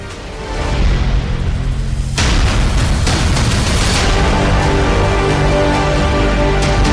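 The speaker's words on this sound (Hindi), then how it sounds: "गांव खारिया बम के धमाके से गूंज उठा।" Army bomb disposal squad detonating a bomb in Kharia village: a loud, sustained blast with deep rumbling booms and crackling bursts that swell after a quieter start and keep roaring to the end.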